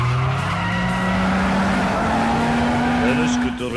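A car's tires skid through a drift in Yakuza 5, a loud sustained squeal over a straining engine whose pitch climbs steadily, close and continuous.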